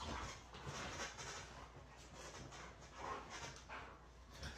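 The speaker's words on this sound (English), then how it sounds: "This guy wanted to see what would happen if he screamed while his dogs were playing." Dogs playing together, with a steady stream of panting, snuffling and small whimpering noises at close range. The activity is continuous and faint, and there is no speech.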